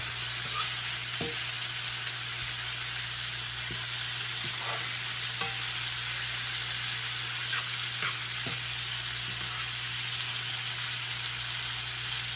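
Ingredients for Cuban fried rice brown in a pan with a steady, fairly loud sizzle. Faint ticks and pops are scattered throughout the sizzle, and there is no speech.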